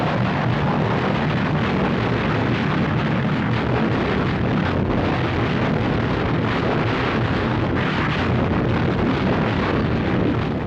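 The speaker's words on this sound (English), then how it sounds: "The Battle of El Alamein began with a massive gun barrage" An archive-film soundtrack of the massive artillery barrage opening the Battle of El Alamein, heard as a dense, continuous roar of rumbling gunfire that stays loud and unbroken throughout, with no talk.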